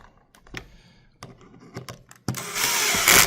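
A wrench snugs down bolts and nuts on a Wheeleez wheel during a bearing and tire replacement, giving a few scattered metallic clicks and then a louder, sustained ratcheting burst near the end.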